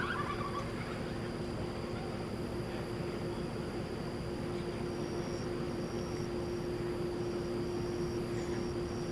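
A jet airliner rumbles at a steady distance while taxiing along runway 18 Left at DFW Airport at night, giving a continuous low drone with a faint whine and no voices.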